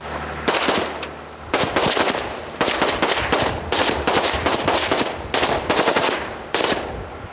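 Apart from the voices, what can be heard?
naval guns firing at night border guard drill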